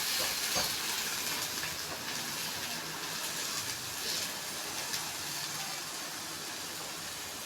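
Tamarind and mint roasting in a hot pan for chutney, a steady close sizzle and hiss with faint stirring scrapes, continuous and even throughout.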